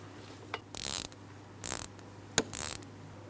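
Ratchet wrench loosening a bolt on the engine of a 2003-2007 Cadillac CTS 3.6L V6 during ignition coil work, heard as several short bursts of rapid metallic clicking separated by pauses, close up.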